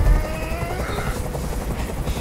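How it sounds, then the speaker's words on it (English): Steady helicopter rotor thrum from the video game Detroit: Become Human, a continuous loud chopping drone that fills the whole moment with no other sound on top. "I can't stand that noise anymore! Tell that helicopter to get out of here!"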